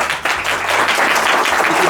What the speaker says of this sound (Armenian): Ծափեր։